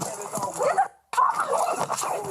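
A dog barks and whimpers close by in short yelping bursts, mixed in with raised voices during a tense domestic confrontation, with a brief pause midway.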